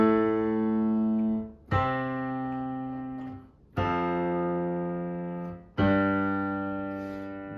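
Piano plays a simple song with notes doubled up, four sustained chords struck about two seconds apart, each ringing and decaying before the next, with no voices.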